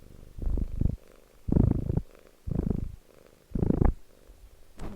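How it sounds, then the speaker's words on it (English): A pet cat purrs close by in a low, rumbling rhythm of four or five even pulses, each about half a second long, separated by short quiet gaps. "Kitty cat. You can hear her."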